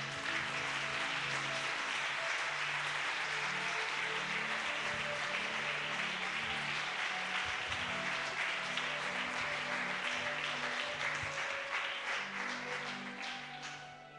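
An audience at a Spanish-language church talk applauds the youth with sustained, steady clapping for about fourteen seconds, fading slightly at the end.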